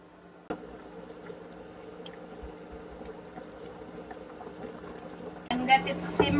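Water is poured into a pot of simmering Filipino kaldereta, a soft liquid rush that starts abruptly and runs steadily, then grows louder and splashier near the end, with a faint voice in the background.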